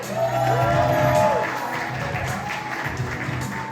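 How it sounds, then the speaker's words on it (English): Audience applause at a Sony Philippines camera launch event, a broad crowd clapping that swells at first then settles into a steady wash, with a brief tonal sound and murmuring mixed in. "A big round of applause for Miss JD Domingo."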